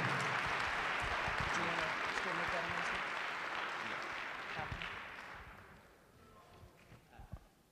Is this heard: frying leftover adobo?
no